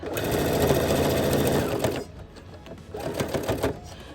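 A sewing machine runs a quarter-inch seam with cream thread on a shabby chic chair cover, a loud steady whir for about two seconds, then quieter, broken bursts of stitching.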